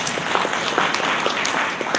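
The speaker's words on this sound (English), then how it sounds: "So we would like to clap him also." An audience at an airline industry general meeting applauds the outgoing chairperson, with brisk, steady clapping filling the room at close range.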